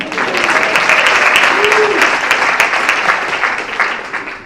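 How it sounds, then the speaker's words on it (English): A conference audience at an HR leadership event applauds itself, a loud, steady roar of many clapping hands lasting a few seconds with faint voices mixed in before it eases off. "A round of applause for yourself."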